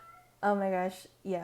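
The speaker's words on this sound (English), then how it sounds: "I'm sorry about my cat." A house cat meows twice close by, the first a drawn-out tonal cry and the second shorter, with a voice speaking around them.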